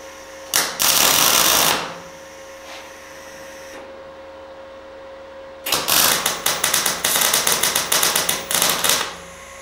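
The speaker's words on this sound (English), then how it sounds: "I will weld on these washers on the four edges of the legs. So let's start welding." Steel washers are welded onto the ends of steel table legs: a short burst of harsh, hissing arc noise, a quiet pause, then a run of rapid, crackling pulses from repeated welds, loud and close.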